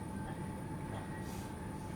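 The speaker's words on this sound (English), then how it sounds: "We're in the train." Steady rumble of a moving Merseyrail train from Birkenhead North to West Kirby heard from inside the carriage, with a faint whine and constant low noise, no talking.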